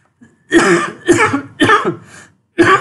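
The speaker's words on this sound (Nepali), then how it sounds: "हल्का यो मौसम चेन्ज गर्दाखेरि खोकी लाग्यो" Several loud, close coughs from a man, four harsh bursts spaced about half a second apart with a brief pause before the last, heard alone without speech.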